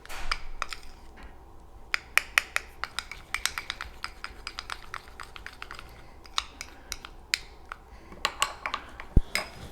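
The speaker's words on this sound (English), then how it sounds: "Just stir it. Make sure all the chips are melted properly." Chocolate chips being stirred as they melt in a bowl, heard as a steady run of quick, close, light clicks and taps of a spoon against the bowl.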